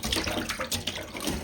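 Goat meat rinsed under a running kitchen tap, a steady close splashing and trickling of water over the pieces in a bowl, continuous with small surges, no voices.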